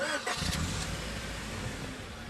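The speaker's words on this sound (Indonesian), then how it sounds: "Saat menghidupkan mobil" Car engine cranking and catching, then settling into a steady running hum, moderately loud and close with no voices over it.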